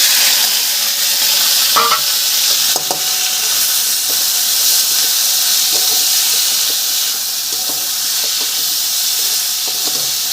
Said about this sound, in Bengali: এবার পেঁয়াজটা দিয়ে দিচ্ছি,